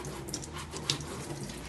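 A tap runs steadily into a sink while a fish tank and its ornaments are cleaned, a close, continuous rush of water with small splashes.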